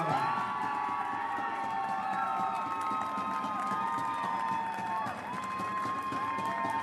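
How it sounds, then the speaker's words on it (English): A crowd cheers steadily at a men's volleyball game at Université de Saint-Boniface (USB vs PUC), with many voices and shouts blending into a sustained, fairly loud roar for about seven seconds. "You can hear the response from the crowd at Université de Saint-Boniface in the booth."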